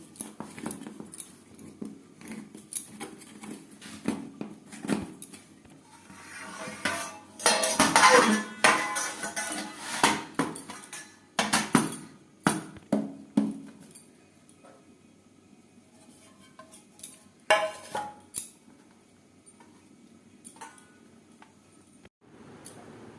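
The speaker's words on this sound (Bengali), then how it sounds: "কেক পুরোপুরি ঠান্ডা হয়ে গেছে একটা ছুরির সাহায্যে চার সাইডটা ছাড়িয়ে নেবো" A knife scrapes and clinks around the sides of a metal tin to loosen a cooled, eggless palm fruit cake, with scattered metallic taps and scrapes and a louder burst of scraping midway, no talk.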